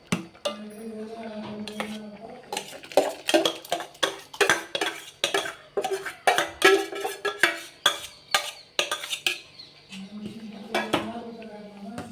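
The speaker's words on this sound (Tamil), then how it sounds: "இந்த பாசிப்பருப்பை நம்ம இதில் எடுத்து ஊற்றிக்கணும்." A ladle clinks and scrapes repeatedly against a metal pot as cooked moong dal is scooped in for ven pongal, a run of sharp, rhythmic metallic knocks, close and fairly loud, with a few quiet background tones.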